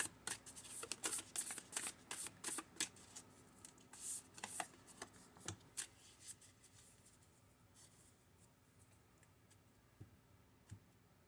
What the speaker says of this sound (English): We'll start with the Denise Linn Sacred Traveler Oracle cards. This is a fun little deck.